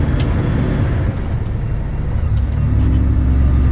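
A heavy truck with an 18-speed Road Ranger gearbox accelerates uphill, its loud deep diesel drone holding steady then swelling slightly near the end, heard close from the cab.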